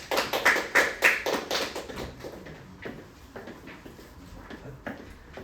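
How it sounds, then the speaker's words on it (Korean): Audience at a school admissions briefing clapping to welcome a math teacher, with brisk, loud applause at first that soon thins into scattered, fainter claps. "자, 박수로 맞이해 주시죠"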